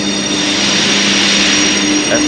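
Steady loud rumble and hum of a train at a railway platform in Prague, continuous and close, with a constant tonal drone and faint squeal near the end.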